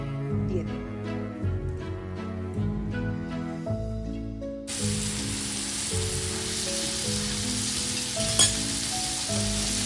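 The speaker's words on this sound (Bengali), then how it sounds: "তেল হিট হয়ে যাওয়ার পর আমি আস্তে আস্তে ম্যারিনেট করা চিংড়ি মাছগুলো কড়াইতে দিয়ে দেব।" Marinated shrimp are slid into hot oil in a pan and begin frying with a loud, steady sizzle that runs continuously for the second half, after a stretch of music with no frying.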